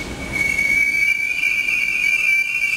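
Paris-area metro or RER train running, a loud steady rumble with a sustained high metallic wheel squeal close by, heard alone.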